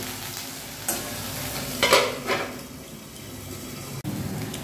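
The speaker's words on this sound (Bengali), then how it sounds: "এই যে পটলগুলো ভাজা হচ্ছে, এখন আর অতটা জল ছিটছে না।" Pointed gourds (five potol) frying in oil in a pan, a steady close sizzle with scraping stir strokes and a few louder clatters, no voices.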